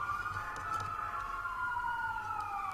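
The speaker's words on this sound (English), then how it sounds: "stop till the sirens go by" A wailing emergency siren passes outside a courtroom, its steady tone slowly sliding downward in pitch as it moves away, moderately distant and continuous over a low rumble.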